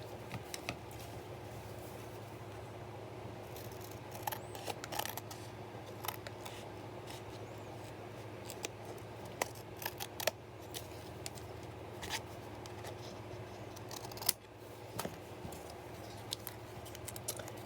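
Scissors trim the end of a paper background for a mixed-media art piece, with faint, close snips and small paper rustles scattered across a quiet room with no talking.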